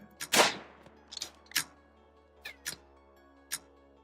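Gunfire rings out during a raid in the video game RimWorld: a handful of sharp, separate shots scattered over a few seconds, some louder and some fainter, over a quiet steady hum.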